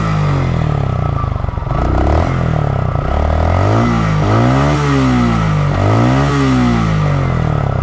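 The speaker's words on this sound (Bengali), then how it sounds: "আপনাদেরকে একটু ইঞ্জিনের সাউন্ডটা শোনাই আমি থ্রোটল দিয়ে" A motorcycle engine revved repeatedly with the throttle, its condition noted as sounding rough, the pitch sweeping up and dropping back in several close, loud surges over a clattering idle, with no talking.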